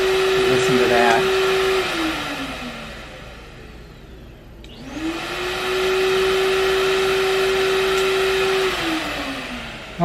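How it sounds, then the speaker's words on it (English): A loud central vacuum system motor whines steadily, winds down to near quiet, then spins back up and runs again; a voice speaks briefly near the start. "we now know that it's turning on the vacuum"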